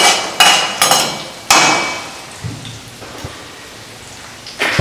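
Tadka masala rattles and crackles in an iron vessel, with several sharp clanking hits over a steady hissing sizzle, loud and close, fading to a softer fizz before one last clatter.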